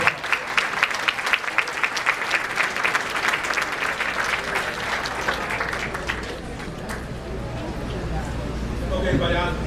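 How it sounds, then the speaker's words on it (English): Long round of applause and cheering from an audience at an Illinois Democratic gubernatorial candidate forum in Matteson, dense clapping that thins toward the end, with a voice starting to speak near the close. "Let's give him a long round of applause."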